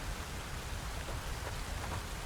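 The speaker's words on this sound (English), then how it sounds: "The rain knows exactly where to fall." Steady rain falls in the Satisfactory video game, a continuous, even hiss of raindrops with faint low rumble beneath and no voices.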